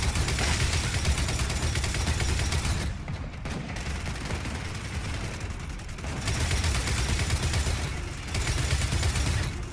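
Sustained rapid gunfire in the video game Gears of War 4, dense bursts of automatic shots with brief pauses, loud and continuous throughout.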